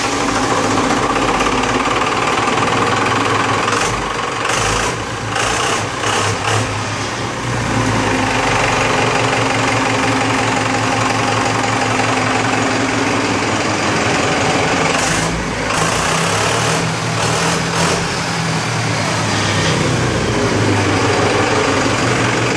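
A stock Cummins 4BT 3.9-liter diesel engine running under load on a dyno, a loud, continuous, rattling drone that holds steady throughout, with brief changes in intensity near the start and the middle.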